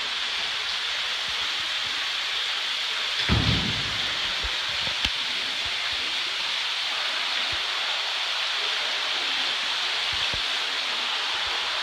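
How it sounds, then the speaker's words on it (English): Steady broadband rush of water spilling into a courtyard waterfall pool at a Santa Rosa Beach, Florida home, constant and fairly close, with a brief low thump partway through. "As we walk in, you'll see this courtyard waterfall pool,"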